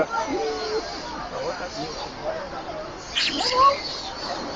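A cat gives a short meow near the end, heard beneath nearby people chatting.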